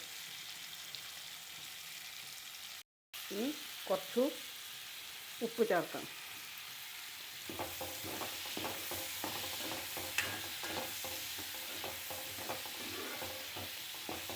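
Garlic, ginger, green chilli and onions fry in oil left from frying chicken for a chicken roast. A soft sizzle runs under a brief spoken remark, then rhythmic scraping stirs take over.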